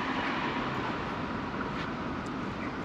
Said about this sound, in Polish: Tutaj właśnie pociąg jedzie